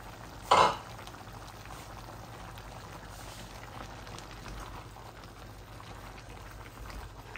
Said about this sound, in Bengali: এখন আমি এই লতিগুলা ঢেলে দিব।